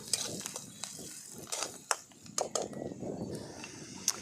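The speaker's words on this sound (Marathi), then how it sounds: "कांदा मस्त लाल परतून घ्यायचा आहे" Onion sautéing in a pan with mustard seeds and cumin, stirred with a spatula: soft sizzling under irregular scraping and clinks, close by and fairly quiet.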